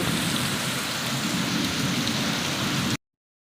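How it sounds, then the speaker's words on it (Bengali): Heavy rain pours in a steady, dense roar close by, driven by gusty wind with thunder in the storm, continuous and loud until it cuts off abruptly near the end. "একদম জোরে জোরে জোরে জোরে দমকা হাওয়া ঝড় বাতাস নিয়ে ঝমঝম করে বৃষ্টি রানী আমাদের বাড়ি বাড়ি এসে দেখা দিল"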